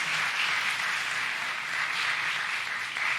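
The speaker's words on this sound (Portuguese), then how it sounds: "pode aplaudir o Senhor Jesus" Steady, dense congregational applause at a Portuguese-language Christmas church service, an even wash of many hands clapping without a break.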